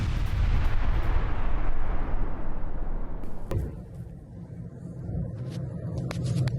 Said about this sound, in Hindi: कुर्स्क में यूक्रेनी फौज पर रूस के हमले, यूक्रेनी चौकियों पर रूस की हवाई बमबारी